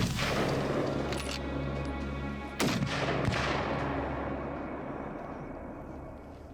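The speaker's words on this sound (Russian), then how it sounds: "Супер выстрелы. Взял со второго выстрела." Two loud, sharp rifle shots a little over a second apart while hunting in the Siberian taiga mountains, each cracking out and echoing across open ground, over a steady background hum.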